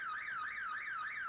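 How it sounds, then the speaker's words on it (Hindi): An electronic alarm tone warbles up and down in a rapid repeating sweep, about three cycles per second, steady and continuous with no talk over it. "इस तरह की अलार्म टोन कौन लगाता है? कितनी तेज है ये।"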